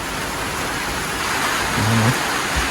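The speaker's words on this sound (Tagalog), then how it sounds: "Ulan." Steady rain falls with a loud, even hiss of drops on surfaces. It continues throughout with a slight swell near the end.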